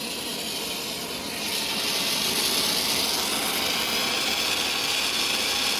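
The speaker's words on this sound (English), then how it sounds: "And we'll start heating. Put the motor on." A motor switched on for heat treatment while making a new chuck key, with an oxypropane torch in use, gives a steady broadband roar that swells after the first second and holds loud and constant.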